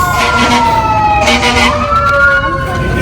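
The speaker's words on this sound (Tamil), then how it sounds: "ரெகுலர் ப்ராக்டிஸ்க்கு போகும்போதும் இந்த சைரன் சத்தம் போட்டுட்டு போவாங்க" A fire truck siren wails loud and close from a fire station across from a grocery store, its rising and falling tones sweeping continuously over steady road and engine rumble.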